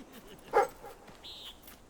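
A dog in the video game Fable III gives one short bark followed by a thin, high whimper, both fairly faint over a quiet background.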